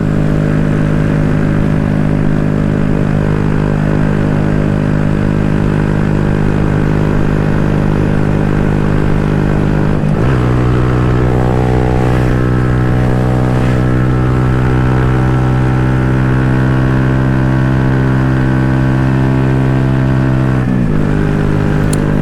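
Small-displacement motorcycle engine of roughly 9 horsepower labouring up a hill on a rally ride, a loud, continuous drone that holds steady, then drops and shifts pitch near the middle and again near the end.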